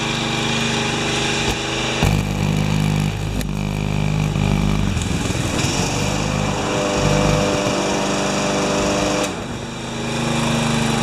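A John Deere 14SE walk-behind mower engine runs steadily on a stand with the blade disengaged, a loud, close, buzzing drone that wavers slightly in pitch throughout.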